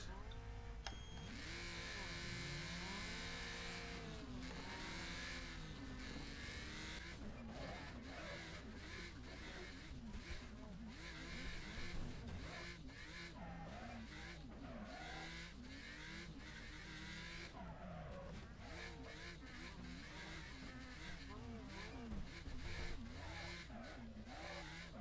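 Race cars in the demolition racing video game Wreckfest: continuous engine roar with revving that rises and falls, tire squeals and skids, and scattered crunching impacts throughout, steady and loud.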